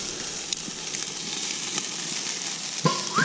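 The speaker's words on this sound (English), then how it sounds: "I can hear it sizzling real good." Chicken wings sizzle steadily on a hot Camp Chef griddle, a continuous close crackling hiss with small pops throughout, ending with a brief louder scrape or clank.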